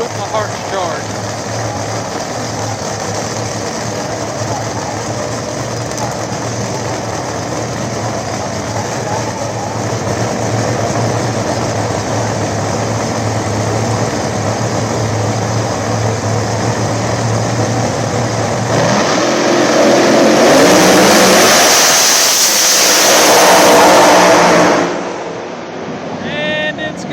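Old-style Camaro Pro Mod drag cars roar at the line with a loud, sustained engine drone, then surge into a brief louder blast as they launch and fade down the strip.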